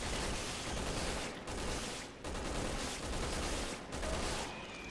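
Dense, continuous gunfire from the video game Resident Evil 6, a loud sustained barrage with brief dips that resembles a fusillade, with no talking over it.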